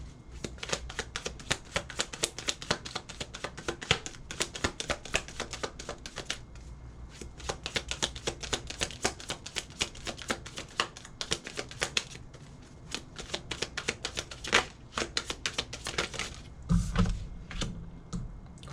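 Tarot cards shuffled by hand during an intuitive chakra reading, a dense run of quick crisp riffles and flicks that keep going almost nonstop, with a short thump near the end.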